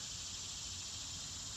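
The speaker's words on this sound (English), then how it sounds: "The cicadas are in voice." Cicadas buzz in a constant high-pitched drone without pause, thick and steady, over a faint low background rumble.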